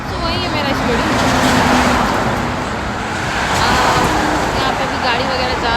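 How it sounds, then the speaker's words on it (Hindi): Vehicles pass on a road in a steady, loud wash of traffic noise with engine rumble and tire roar, swelling and easing as cars go by, while a person talks over it. "गाड़ी वगैरह जा रहा है, so you can listen the noise"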